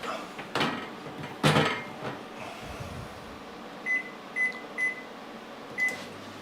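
A microwave oven heats broccoli in a home kitchen: a couple of sharp clatters and knocks, then four short, clear electronic beeps sound at steady intervals near the end.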